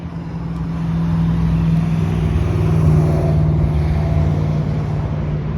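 Cars, trucks and semis roll past at a street intersection, a steady close traffic rumble with a low engine drone that swells slightly midway and holds throughout, no talking.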